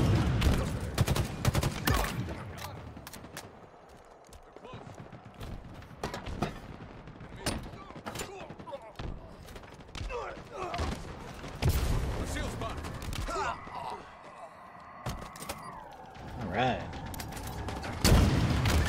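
Rapid bursts of gunfire and repeated shots in Halo Infinite multiplayer, dense and loud throughout with mechanical clanks between, ending in a sustained tonal whine.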